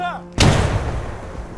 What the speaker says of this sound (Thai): ปาระเบิดใส่บังเกอร์เลย